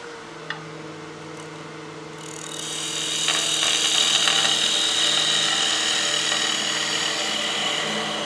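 A wood lathe spins with a steady whine, then a tool bites in and adds a rising, hissing scrape as a chuck-mounted piece is turned for a snowman oil candle.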